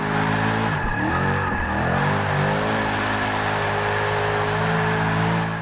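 The Mercedes-Benz AMG GT-S engine in the Forza 6 racing game roars loudly and steadily, its pitch sweeping up and down with revving before settling into a sustained drone.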